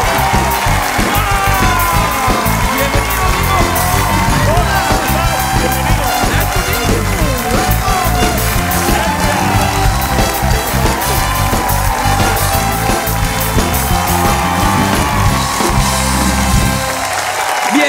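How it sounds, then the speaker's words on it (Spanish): Studio audience on a late-night talk show applauds and cheers to welcome two guests, a dense, loud, continuous wash of clapping and whoops over music that holds steady for the full stretch. "Un aplauso para recibir a Roland Boone III y a Drew Ray."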